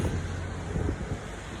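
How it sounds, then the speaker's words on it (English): Strong wind buffets the microphone beside a flooded river in North Yorkshire, a loud continuous rumbling roar with gusty swells and no talking. "but it's very windy"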